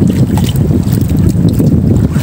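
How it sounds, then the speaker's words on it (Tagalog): Strong wind buffets a small boat at sea at night, giving a loud, steady roaring rush with low rumble, close to the microphone and without talk. "medyo lumalakas na yung hangin"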